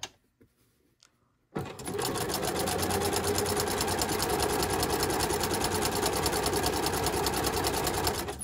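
After a brief quiet pause, a domestic sewing machine starts and runs steadily at a fast, even whirring rhythm, stitching a garment lining close up with no voices.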